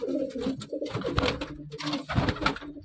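Pigeons coo in a loft where pet birds are being released to fly, with repeated low throaty calls overlapping close by and no speech.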